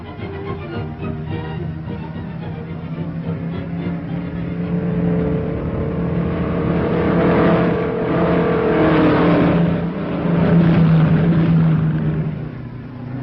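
Race cars circle a racetrack in a steady engine drone that swells and fades as they pass, with rising revs in the middle and no talking.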